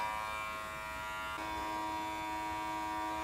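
A vacuum cleaner runs with a steady, droning motor whine that shifts pitch partway through, continuous and fairly quiet with no voices.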